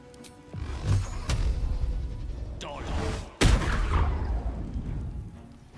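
A creature blowing up in Baldur's Gate 3: a couple of sharp booming blasts with rumbling debris and scattered impacts, the biggest burst landing midway, all over a low game backdrop.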